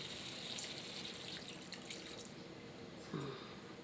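Water poured or run into a pan of cooking chayote (sayote) with sardines, a soft faint splash and trickle in a quiet kitchen with no talk.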